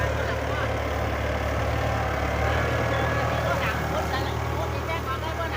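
The heavy diesel engine of a Kubota 70 tractor runs loudly and steadily close by as it pushes a smaller tractor loaded with rice, while people shout over the noise.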